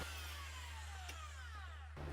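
A rotary hammer drill fitted with a coring bit bores through exterior stucco, its motor whining steadily with a falling pitch before briefly cutting off near the end, alone and without talk.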